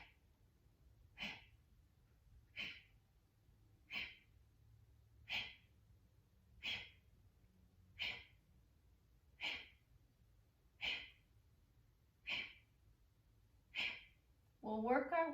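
Forceful, rhythmic exhales during a chair yoga breathing exercise, about ten sharp puffs evenly spaced roughly every second and a half, close and alone, followed by a brief voice at the end.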